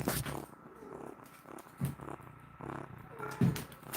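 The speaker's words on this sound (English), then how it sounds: "Could you guys hear his purring?" A kitten purring softly and continuously, close up and alone, with a few louder rumbling pulses and faint rustling of movement.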